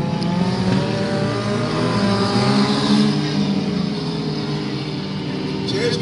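Front-wheel-drive race cars, including the 7H car, roar continuously around a dirt oval during a heat race, engines loud and close with steady revving that blends several cars together.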